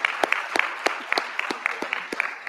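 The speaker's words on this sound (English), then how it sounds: "Let's give him a round of applause as well." An audience at a national cybersecurity pre-conference event applauds, with a modest group's clapping nearby and individual sharp claps standing out in a loose rhythm across a couple of seconds.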